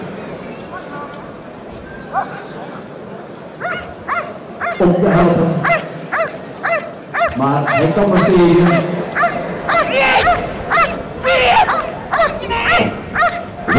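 Dogs bark in rapid, excited bursts, loud and close, during a KNPV police dog trial, while someone talks over them and a crowd murmurs in the background.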